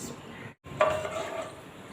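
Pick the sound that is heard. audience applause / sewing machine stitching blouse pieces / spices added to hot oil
spices added to hot oil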